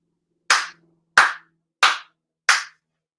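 Four sincere ritual hand claps at a Shinto prayer service, sharp and evenly spaced about two-thirds of a second apart, close and clear against silence.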